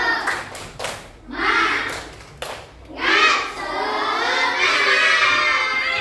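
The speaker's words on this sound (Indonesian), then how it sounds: "Tepuk satu, tepuk satu, tepuk semangat" A group of children claps in a quick rhythmic pattern, followed by their voices shouting together a loud, excited Indonesian chant, "tepuk satu, tepuk semangat."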